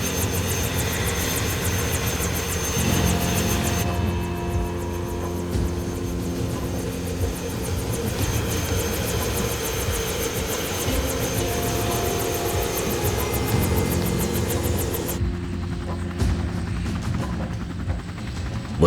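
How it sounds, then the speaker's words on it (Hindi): A helicopter takes off and flies, its engine and rotors giving a loud, continuous roar that stays close and steady throughout, with a brief shift in tone partway through and no voices. "वो लोग बैठ गए हैं, हेलीकॉप्टर उड़ चुका है।"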